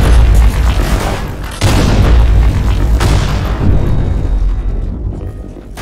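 Gunfire in a shooter video game, two heavy booming shots a little over a second apart, loud and close, each trailing off into a long rumbling decay.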